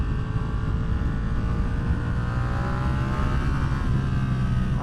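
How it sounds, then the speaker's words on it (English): A motorcycle with its stock exhaust revs close by in a steady growling drone whose pitch climbs midway and then holds, with no talking. "this is the worst sounding stock exhaust ever"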